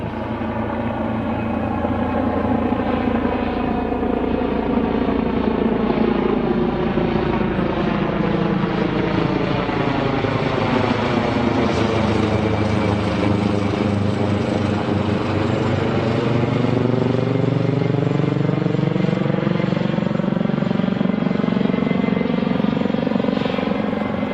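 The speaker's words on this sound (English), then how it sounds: "here comes a great big helicopter." A helicopter thuds loudly overhead, its rotor chop steady and close, the pitch sweeping down then back up as it passes.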